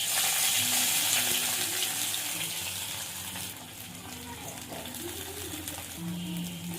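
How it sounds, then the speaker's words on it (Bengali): Chopped onion fries in mustard oil with cumin and bay leaf, a continuous hissing sizzle that stays close and steady, gradually softening, with a faint voice underneath. "পেঁয়াজটা ভাজা ভাজা করে নেবো"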